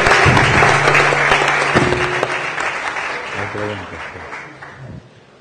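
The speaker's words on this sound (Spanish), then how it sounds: "Un aplauso para..." Audience applause after a talk on agribusiness, fairly loud and close at first, then gradually fading, with some tonal background sounds and voices underneath.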